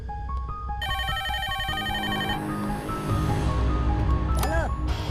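A repeating electronic phone ringtone plays in short chiming bursts, with background voices and music-like sounds around it.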